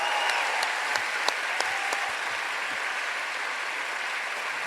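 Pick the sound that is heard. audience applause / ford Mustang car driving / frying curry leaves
audience applause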